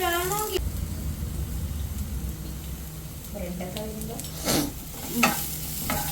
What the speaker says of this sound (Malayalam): എണ്ണയിൽ കടുക് പൊട്ടിച്ച് കറിവേപ്പിലയിട്ട് വെളുത്തുള്ളി സവാള